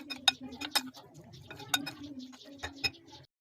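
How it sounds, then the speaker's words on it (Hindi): A spoon clinks and scrapes against a bowl while mixing a Chicken Manchurian mixture, several sharp taps in an uneven rhythm, close and fairly quiet, with someone talking softly underneath. "अब चम्मच की मदद से इसे अच्छी तरह से मिक्स करेंगे।"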